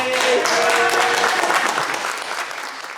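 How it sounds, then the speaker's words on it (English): Audience at an open mic night at a Black comics convention breaks into a loud, dense round of applause that stays strong throughout before easing slightly near the end. "let's give a big round of applause to Jay Friday"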